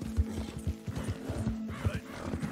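A wagon driver's horse in the video game Red Dead Redemption 2 trots with an even clip-clop of hooves, close and moderately loud, with a faint creak of tack beneath the steps.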